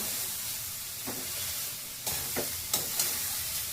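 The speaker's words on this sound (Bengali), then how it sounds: "দেখো কাজু দিয়েছি, ঘি দিয়েছি, এলাচ পাউডার দিয়েছি, আর এই গাজরটা দিয়ে এখন ভাজছি" Grated carrots fry in ghee with cashews and cardamom powder for carrot halwa, giving a constant bright sizzle with a few scraping stirs of a spoon in the pan.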